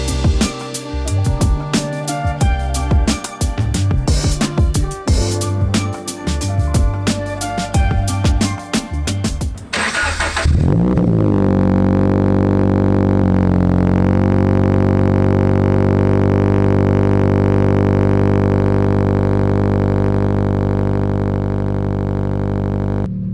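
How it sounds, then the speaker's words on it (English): A Toyota 86's engine cold-starts and settles into a loud, steady idle with a deep rumbling exhaust, preceded by a stretch of busy, dense music. "I just started the car up, did a little cold start for y'all, but it's freaking loud"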